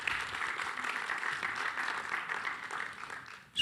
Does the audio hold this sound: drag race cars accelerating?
no